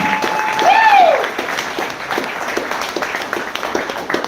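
An audience claps at a Fort Smith city meeting, a moderate wash of applause that rises early and then thins, with a voice speaking over it.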